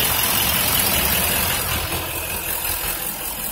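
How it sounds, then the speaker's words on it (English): 2012 Chevy Silverado 2500HD Duramax diesel truck idling near its aftermarket exhaust tip, giving a steady, even rumble with a broad hiss and no talk over it. "to the exhaust too so you can hear that rumbling"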